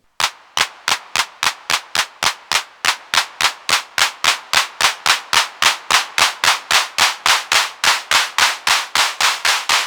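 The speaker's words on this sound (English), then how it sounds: "The clap size, so that would be what Robin Whittle was calling hand clap density." Circuit-bent Roland TR-1000 drum machine hand clap firing in a steady, rapid train of sharp, evenly spaced bursts, each with a short reverb tail, loud and alone.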